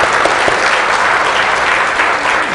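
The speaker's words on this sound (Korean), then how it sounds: "다시 한번 하나님께 영광의 박수 주세요" A church congregation claps at a worship service, a dense and loud burst of applause sustained evenly throughout, with faint voices mixed into the crowd.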